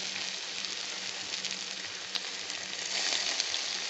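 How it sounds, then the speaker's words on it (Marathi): Cooking oil poured into a pan for frying okra makes a steady sizzling hiss, loud and continuous, swelling slightly toward the end, with no voices. "आता आपण याच्यामध्ये तेल टाकणार आहे"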